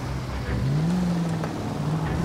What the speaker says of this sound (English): Sitting here, waiting at the lights, revving the engine.